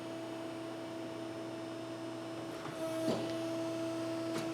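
A hydraulic tube bender extends its clamp on truck frame rail tubing, a steady machine hum with faint mechanical clicks and a soft thump partway through.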